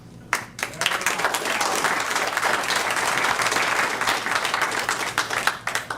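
A room full of people at a county health and human services committee meeting claps loudly and steadily after a public comment, the applause sustained for several seconds before tapering.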